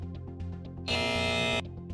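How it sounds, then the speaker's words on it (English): A loud, harsh electronic quiz show buzzer blares for just under a second over a low background hum, then cuts off abruptly. "Obro has gone for it on the buzzer."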